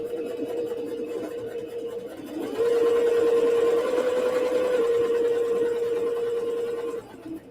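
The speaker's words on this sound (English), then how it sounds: "Putting my needle down, back stitching." A Singer Sew Mate 5400 sewing machine back stitching, its motor starting at about two and a half seconds into a steady, close whirring hum that holds for roughly four seconds before cutting off. Before that, only quiet room sound.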